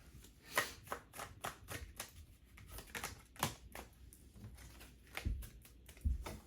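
Tarot cards shuffled by hand in a quiet room, a run of quick, crisp riffling and slapping bursts that come in uneven clusters and stay close and fairly soft throughout.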